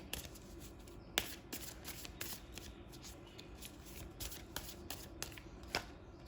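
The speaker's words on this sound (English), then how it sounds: "I have one more deck to shuffle for you" A deck of affirmation cards is shuffled close up and quietly, with rapid riffling flutters and soft taps repeating in quick bursts.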